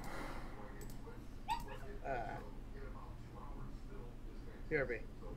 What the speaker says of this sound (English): whose dog are you strangling in the background?